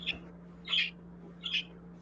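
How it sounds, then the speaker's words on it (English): Birds singing in the morning outdoors, three short chirping calls spaced about a second apart, fairly faint over a low steady hum. "The birds are saying good morning"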